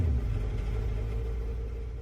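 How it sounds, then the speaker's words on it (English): Race car engine in Gran Turismo 7, a steady deep rumbling drone held loud and close for about two seconds, fading slightly toward the end with no talk over it. "Wow, that engine."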